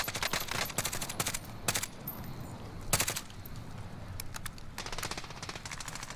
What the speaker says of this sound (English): They're shooting each other again.